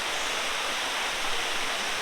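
Elephant Falls in Meghalaya roars as a steady, broad rush of falling water, loud and unbroken with no voices over it.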